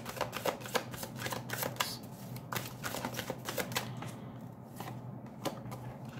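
Tarot cards shuffled and flipped by hand: a string of quick, crisp card snaps and flicks at a steady, uneven rhythm, close and clear, with no talking.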